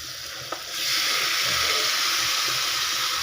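Cabbage and egg curry with tomato and capsicum being stirred in a frying pan: a quiet scrape, then a steady loud sizzle and hiss of frying that continues to the end, with no voices.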